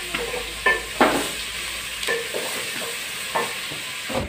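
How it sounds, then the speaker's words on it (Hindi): Onions, tomatoes and chillies fry in a pan, with a steady sizzle broken by repeated stirring knocks and scrapes at an uneven pace. "अब प्याजों को और टमाटर मिर्च को अच्छी तरह गर्म कर लूँगी।"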